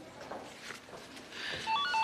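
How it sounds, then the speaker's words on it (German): A telephone number dialed by keypad in an office: a quick run of five or six short electronic tones near the end, faint and close, with no talking. "Ich muss jetzt wirklich telefonieren."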